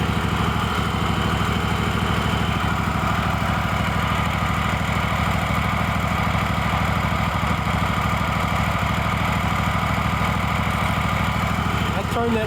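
A Kohler Command engine on a Craftsman GT5000 lawn tractor idles steadily after a carburetor adjustment, a continuous even rumble at moderate distance with no break in rhythm.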